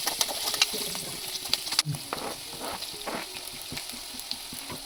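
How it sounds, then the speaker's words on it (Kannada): Onions and green chillies fry in hot oil for a sheep intestine dry fry, giving a steady close sizzle with stirring clinks and scrapes throughout. "ಎಣ್ಣೆ ಕಾಯ್ದ ನಂತರ ಈರುಳ್ಳಿ ಹಾಕ್ಕೊಂಡು ಈರುಳ್ಳಿ ಸ್ವಲ್ಪ ಫ್ರೈ ಆದ ನಂತರ ಹಸಿರುಮೆಣಸಿನಕಾಯಿ ಹಾಕೋಣ"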